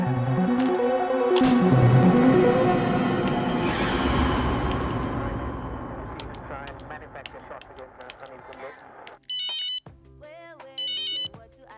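A telephone in a Tamil TV serial scene gives two short, bright electronic ringtone bursts about two seconds apart, loud and close, after background music fades away.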